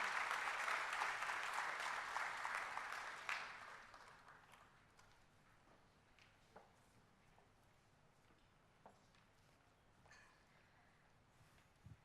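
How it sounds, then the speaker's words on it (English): Audience applause at a university freshers' induction program at IIT Kharagpur: a strong burst of crowd clapping that fades out after about four seconds, leaving a quiet hall with a few scattered late claps. "Guys, please have a round of applause."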